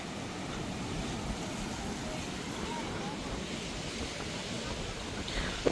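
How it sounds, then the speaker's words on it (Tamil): Rough, aggressive sea surf along the Jaffna coast, a steady wind-blown roar of breaking waves heard up close throughout, with no clear talk over it. "கடலை பாருங்க எந்த அளவுக்கு ஒரு"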